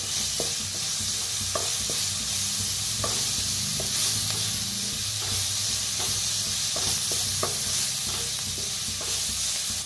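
Asafoetida and spices roasting in a pan with only a little oil, giving a steady close sizzle and hiss with scattered stirring clicks throughout, without speech.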